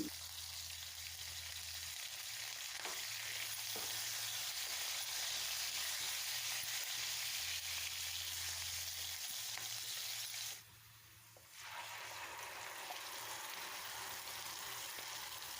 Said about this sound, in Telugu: ఎండుమిర్చి ముందుగా కట్ చేసిన ఎర్రగడ్డలు కరివేపాకు వేసి ఫ్రై చేసుకోవాలి